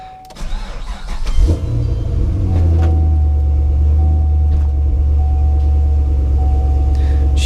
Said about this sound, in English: She starts up. So the car starts up very, very well.